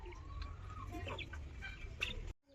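Native chickens on a farm, some of them sick, give soft, scattered clucks at low volume, a few short calls spread over the moment before the sound cuts off, with no talk.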